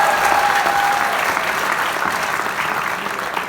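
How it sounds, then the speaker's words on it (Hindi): Loud, sustained audience applause at a live laughter show, a thick wash of many hands clapping together at a steady level throughout, with no speech over it. "जोरदार ताली बजाओ भाई एक बार।"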